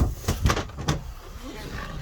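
A storage compartment door beneath the bunk of a Coleman CTS15BH camper is opened, giving a few quick knocks and rattles up close, then a quieter rustle as it settles.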